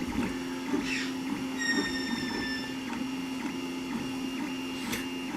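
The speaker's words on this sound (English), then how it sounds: "It's a 3D printer machine that I made." A Tevo Tarantula kit 3D printer prints with a steady motor hum and a series of short stepper whines and ticks, moderately quiet and close, with no voices.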